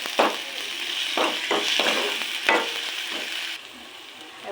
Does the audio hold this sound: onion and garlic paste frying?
yes